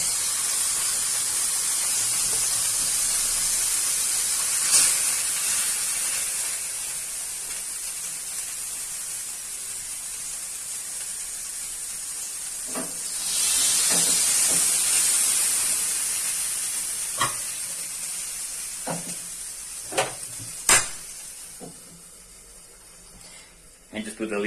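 Arepas cook in a pan over low heat, giving a steady bright hiss that swells midway, with scattered clicks and knocks toward the end.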